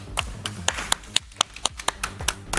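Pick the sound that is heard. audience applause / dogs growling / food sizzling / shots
audience applause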